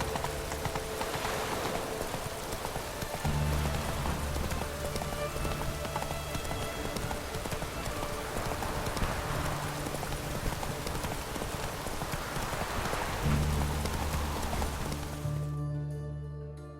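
Steady rain pours in The Witcher 3: Wild Hunt, Hearts of Stone, a dense, continuous patter filling the scene, with low rumbling tones and occasional hoof-like clopping underneath.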